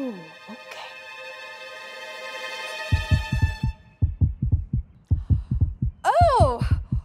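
Cartoon heartbeat sounds from children's animated characters, a steady run of low thumping double beats under a sustained musical hum, followed by a brief whistling swoop near the end.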